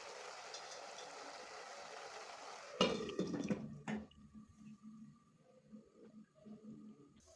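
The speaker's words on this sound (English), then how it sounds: "Here goes water for our ugali." Water pours into a cooking pot for ugali in a home kitchen, a steady rushing splash that stops abruptly and is followed by faint clatter and quiet kitchen sounds.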